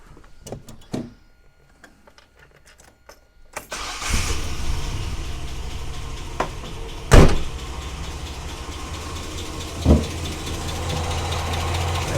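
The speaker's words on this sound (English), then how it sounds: "we should be able to start that, and it should run out of fuel," A Nissan Patrol GQ with a TB42 engine cranks after a few faint clicks, then catches and settles into a steady close idle. Two sharp surges in the running engine stand out, with no talking.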